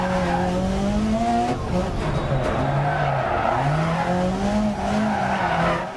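Lancia S4 rally car in DiRT Rally 2.0, its engine revving and shifting with rising and falling pitch while tires skid and squeal loudly and continuously on the track, close and dominant with no talk over it.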